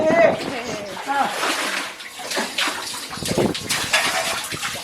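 Water is poured and splashes while an old, long-neglected well is cleaned out, coming in several uneven sloshing bursts close by. People talk over the splashing throughout.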